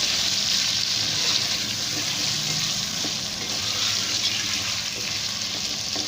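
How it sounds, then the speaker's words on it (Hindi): Potatoes frying with garlic and ginger in a pan give a loud, continuous, dense sizzle close by, with faint scrapes of stirring and no voices. "लहसुन अदरक फ्राई हो जाएंगे तो मैं इसमें आलू डाल दूंगी अब, और इनको मैं थोड़ा सा फ्राई कर लूँगी आलू को"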